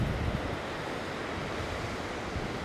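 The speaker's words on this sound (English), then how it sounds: "the biggest, angriest water, undercut cliffs" Big, rough ocean water surges against undercut cliffs at Steep Point, a continuous loud roar of waves mixed with heavy wind buffeting the microphone.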